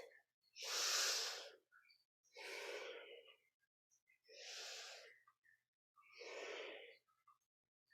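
Four slow, breathy inhale-exhale cycles during a yoga pose, each a broad airy rush lasting about a second with short quiet pauses between, close and moderately loud, no talking.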